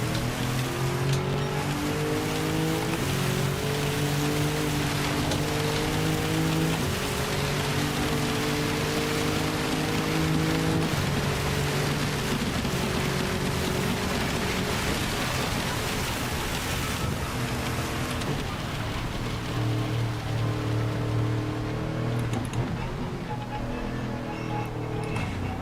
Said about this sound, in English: Going through the foxhole in the rain.